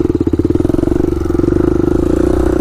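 A Honda ATC 350x three-wheeler's single-cylinder engine runs loud and close, with a rapid, evenly pulsing chug that climbs slightly in pace as it pulls away.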